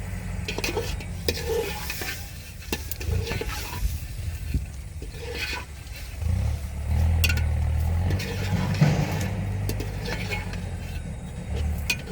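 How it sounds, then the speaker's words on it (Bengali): Meat and potatoes fried and stirred in a pan for a rainy-day khichuri in a village kitchen, with repeated scraping stirs over a steady sizzle and a low background rumble. "মাংস আর আলু ভালোভাবে কষিয়ে নিই"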